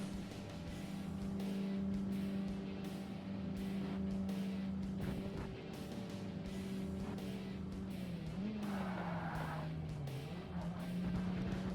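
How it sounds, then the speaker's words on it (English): A racing car in Forza Motorsport on the Nürburgring holds a steady engine drone through corners, with the pitch dipping and recovering as it brakes and accelerates, alongside some tyre scrub and occasional surface noise. "I gotta try to go faster into the corners now"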